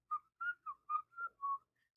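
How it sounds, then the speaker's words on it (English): A short whistled tune on a paranormal voice recording made in a kitchen: six clear, bright notes in quick succession, alone against silence, fairly soft. "there was one where somebody's whistling"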